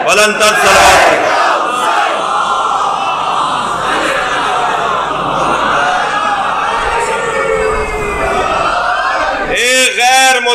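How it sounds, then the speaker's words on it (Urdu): A large crowd at a Shia majlis loudly recites salawat in unison, a dense roaring chorus of many voices that swells and holds, with a few sharper shouts near the end. "بلندر صلوات پڑھیں۔"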